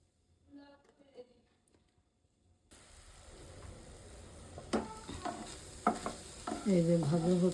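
Duck eggs fry with onion scallions in a pan. After a quiet start, a steady sizzle rises, broken by scraping and clanking stirring strokes that grow louder toward the end.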